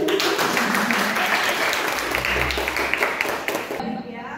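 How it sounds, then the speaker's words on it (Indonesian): Students in a university lecture hall clap together in a loud, dense burst that fades out near the end, with voices mixed in. "Mau tepuk tangan dulu boleh?"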